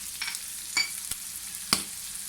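Liver masala with onions and chopped green chillies cooks on a tawa as a spoon stirs it, giving a few sharp scrapes and clicks over a faint, quiet sizzle.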